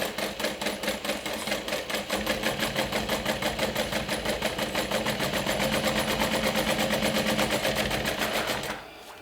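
A sewing machine drives through many thick bag layers with a loud, rapid, regular needle hammering. It runs continuously, then stops abruptly near the end.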